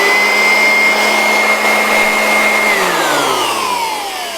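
Electric air blower dust cleaner running at low power, a steady close whirring hiss with a whine that drifts down in pitch near the end, no talk.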